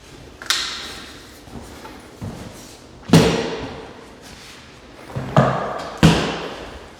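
A headless pin nailer fires 1 3/16 inch nails into half-inch white oak handrail pieces during a staircase makeover, giving sharp, close snaps spaced a second or more apart, some louder than others.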